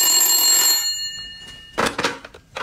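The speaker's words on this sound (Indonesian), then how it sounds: "di mana saat Kartika mengangkat telepon, namun si penelpon tidak berbicara sama sekali" Telephone bell ringing in a spooky Indonesian ghost-story narration, a loud electronic trill for under a second that cuts off, followed after a pause by a few short muffled knocks or handling sounds.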